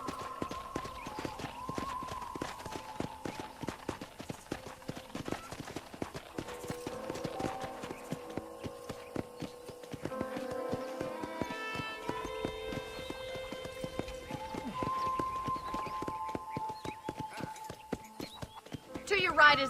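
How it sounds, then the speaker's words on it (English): Steady horse hooves clip-clop in a quick, regular rhythm in the video game Red Dead Redemption, with occasional tonal musical notes and voices in the background. "let's see if you can still ride a horse"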